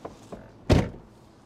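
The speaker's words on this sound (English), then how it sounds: "let me yeah. just shut that door" A door shuts with one loud, close thunk after two faint knocks, set beside a car.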